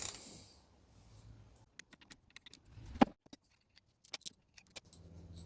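Small metal parts from a Honda CB250N Superdream clutch, nuts, bolts, washers and springs, clink and rattle in scattered light taps and jangles, close by with quiet gaps between.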